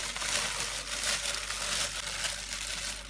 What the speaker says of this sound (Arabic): هنلم الكيس بقى ونقفله بعد ما خلصنا كده.